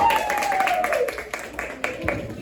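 Classroom audience clapping for a student after a school presentation, a dense patter of scattered claps running throughout while a voice briefly sounds over the start.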